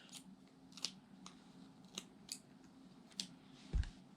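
Scissors trimming excess material while repairing an M42 camera lens, a handful of quiet, crisp snips spaced irregularly, close and isolated with no speech.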